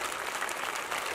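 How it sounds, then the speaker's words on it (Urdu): Loud, dense applause from a school audience in Balochistan, steady unbroken clapping filling the whole moment. "ایک دفعہ زوردار تالی اپنے لیے بجائیں"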